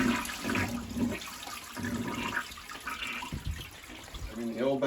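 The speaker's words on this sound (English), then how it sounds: "and then flush all the toilets" A farmhouse toilet flushes in an old bathroom during winterizing. Water rushes and gurgles unevenly through the bowl and pipes with a hollow, echoey sound, and someone speaks over it.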